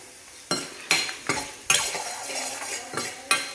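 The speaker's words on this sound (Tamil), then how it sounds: "இப்போ இதில் வந்து பெருங்காயம் போட்டு இதை வதக்கிப்போம்" Spices being stir-fried with asafoetida in a pan for sambar rice, with a spoon scraping and clinking against the metal in sharp, repeated strokes over a low sizzle, close and fairly loud, no voices.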